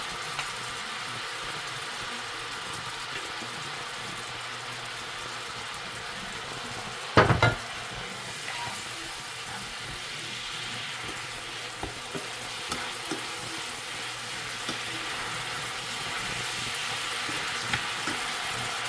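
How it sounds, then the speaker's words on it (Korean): A calcium-rich side dish stir-fried in olive oil in a pan, a constant crackling sizzle with scraping stirring strokes throughout and one loud clattering knock partway, close by and free of talk. "달궈질 때까지 이렇게 볶아주세요"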